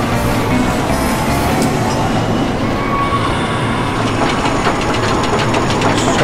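A roller coaster ride in RollerCoaster Tycoon 3 gives a steady, loud rumble of cars on track with clattering and rattling throughout, with no voices.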